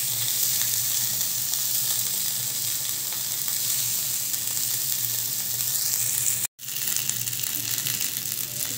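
Pepper garlic chicken pieces frying in a pan, a loud, dense, continuous sizzle close up with only a momentary break.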